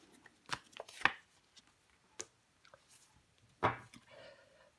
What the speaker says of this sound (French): Je recouvre le 9 de coupe.